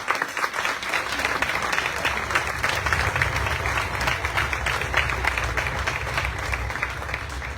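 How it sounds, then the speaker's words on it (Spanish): Audience applause at a festival proclamation reading for Nuestra Señora de las Nieves, steady dense clapping from a crowd filling the whole stretch at an even level. "Fuerte el aplauso para él"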